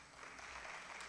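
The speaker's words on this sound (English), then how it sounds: "with a round of applause" Conference audience applause, a brief, faint wash of clapping with no voices.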